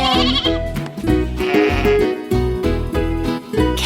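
A sheep bleats loudly and up close in a series of wavering, tremulous calls with short pauses between them, with no voices heard.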